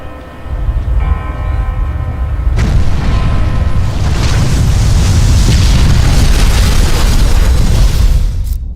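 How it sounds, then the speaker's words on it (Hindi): A nuclear bomb explosion sound effect: a deep, loud rumbling roar swells after a short lead-in and stays as a sustained, thunderous wall of sound for several seconds before cutting off. "ओपेनहाइमर ने आग यानी न्यूक्लियर बम को बनाया।"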